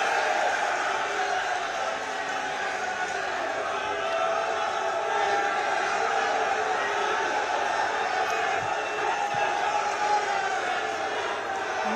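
A large crowd at a political rally in Baghpat makes a steady, dense roar of clapping and cheering throughout, loud and continuous, with no clear break.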